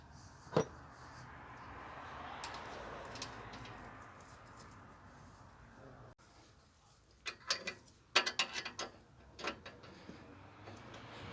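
Shear bolt being installed and hand-tightened on the auger shaft of an Ariens snow blower, a quiet stretch followed by clustered metallic ratcheting clicks and taps, close and fairly faint.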